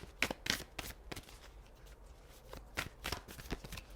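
Tarot cards shuffled close up, with repeated crisp riffles and flicks in irregular bursts and quieter handling between them, and no voice.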